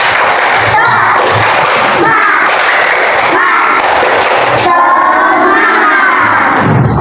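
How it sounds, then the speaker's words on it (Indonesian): A class of schoolchildren performs a rhythmic spirit clap together, a loud crowd of small hands beating in quick patterned bursts with children's voices shouting along, filling the room up close. "Tepuk semangat."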